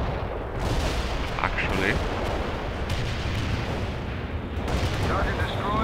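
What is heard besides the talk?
mortar fire in video game World in Conflict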